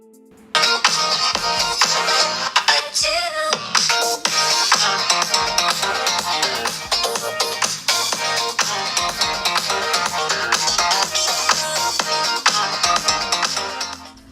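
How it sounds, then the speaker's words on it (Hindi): The dual stereo speakers of a Google Pixel 6 Pro play a loud music sound test, a continuous full track with a steady beat running for over ten seconds. "अब स्पीकर की साउंड क्वालिटी चेक करते हैं।"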